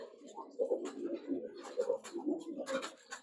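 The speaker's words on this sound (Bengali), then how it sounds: "মাদিটা একটা পুরান জাতের কবুতর, এখন সচরাচর এই কবুতর গুলো পাওয়া যায় না।" Pigeons in a pigeon loft, including an old-breed hen, coo in low repeated throaty bursts close by, with a voice talking at times.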